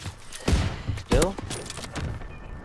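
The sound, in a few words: gunshot in World War 2 video game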